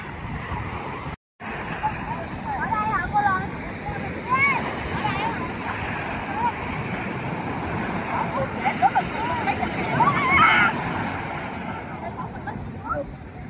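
Gentle sea waves and breezy wind at Nha Trang beach on a summer afternoon, a continuous soft wash with wind buffeting the microphone and faint chirpy background sounds, with a brief dropout near the start.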